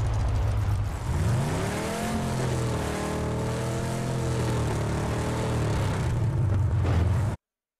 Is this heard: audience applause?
no